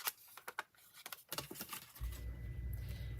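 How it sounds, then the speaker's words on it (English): A home furnace kicks on in a downstairs studio, a low steady rumbling roar that starts abruptly and keeps going after a series of light scissor snips and taps, fairly faint throughout. "And my heat just kicked on."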